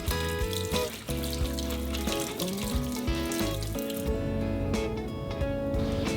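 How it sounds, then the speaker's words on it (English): Soaked apricot kernels are washed in water, with running tap water and wet squishing and splashing close by, steady throughout. "Next, wash the soaked apricot."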